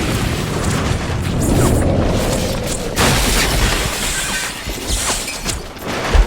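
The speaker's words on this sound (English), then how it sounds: "That blast shook the hospital and us." A bomb explosion in a hospital drama scene, a heavy rumbling blast that sustains loudly across the whole stretch with crashing debris layered on top and no speech.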